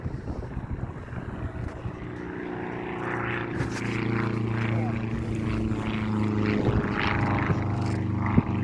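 Taylor Monoplane, an open-cockpit taildragger propeller plane, flying at an airshow finale, its steady engine drone rising and holding with wind noise, while a commentator talks over it.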